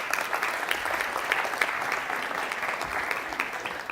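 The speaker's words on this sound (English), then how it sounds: "Big round of applause." Audience applause at a startup pitch event as teams come up on stage, a dense, continuous clapping at steady strength throughout, with faint crowd murmur underneath.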